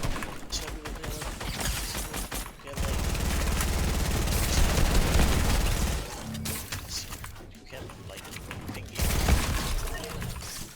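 Rapid gunfire in Fortnite, a player shooting into a cone build during a solo cash cup match, dense bursts of shots with crashing and building noise, loud and continuous with brief pauses.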